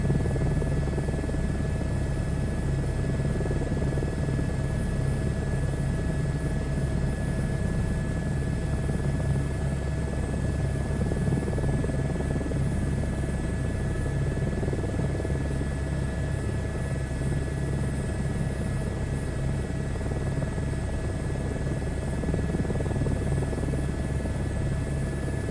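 A helicopter in a VR flight game drones continuously with a loud, steady rotor and engine hum, unbroken throughout.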